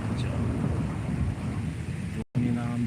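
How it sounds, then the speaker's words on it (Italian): Thunder rumbles low and heavy through a night thunderstorm with rain, a loud continuous roll that cuts off briefly near the end before resuming. "Tuoni, lampi, non si capisce più niente qua."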